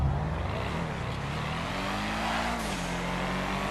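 A sports car engine in GTA Online runs steadily and loudly, its droning pitch rising gently as it accelerates while driving, with no talk over it.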